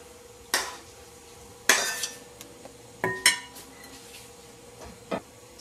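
A spoon scrapes and clinks against a bowl as cooked ground beef is stirred into a mixture of cream cheese and Mexican cheese blend, giving a few sharp, separate knocks close by in an otherwise quiet kitchen.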